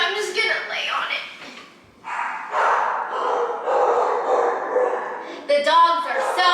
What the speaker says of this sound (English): The dogs are so happy that I made noise.